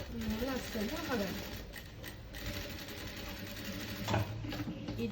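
A sewing machine stitches elastic into a pair of light trousers, running in a steady close mechanical whir with a few brief clacks while someone talks over it.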